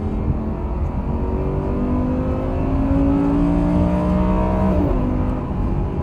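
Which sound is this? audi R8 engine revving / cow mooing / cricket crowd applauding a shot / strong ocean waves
audi R8 engine revving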